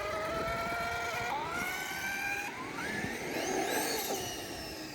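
A Traxxas X-Maxx RC truck's belt drive whines and whirs close by, its pitch sliding up and down with throttle over a rumbling, gritty motor noise.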